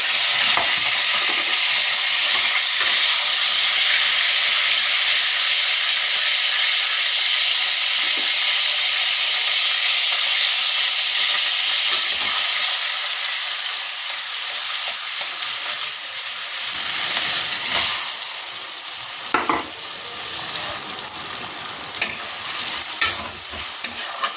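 Finely chopped onions fry with salt in hot oil in a home kitchen pan, giving a loud, steady sizzle with occasional stirring scrapes throughout. No one speaks.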